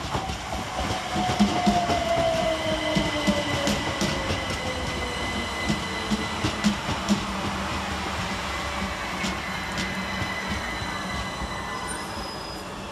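Southern Railway unit 3877 running the 0732 Brighton to Portsmouth and Southsea service through Angmering station, a loud steady roar of wheels on rails with rhythmic clicks and a falling whine, sustained for the whole stretch.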